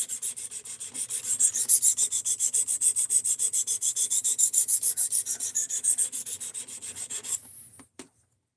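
A knife is stroked back and forth on a 220-grit stone of a guided sharpening system. Close, rhythmic rasping passes come at a steady pace, about five per second, then stop with a few final scrapes.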